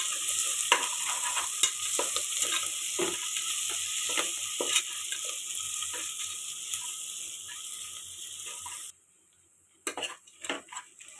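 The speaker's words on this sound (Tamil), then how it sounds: "வெங்காயம் ஓரளவுக்கு நல்லா வதங்கிடுச்சு." Onions sauté in a pan for a homemade egg varuval, a steady sizzle broken by repeated scrapes and clinks of a spoon stirring against the metal, then a brief quiet gap before a few more close stirring knocks.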